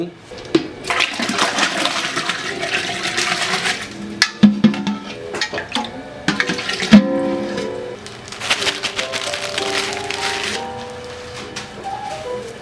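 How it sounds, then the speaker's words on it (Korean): Ramen broth poured through a strainer: splashing liquid, then dense watery rushing sound with clinks from kitchen utensils, steady and fairly loud, with no talk over it. "자 이제 육수를 다 걸러냈습니다"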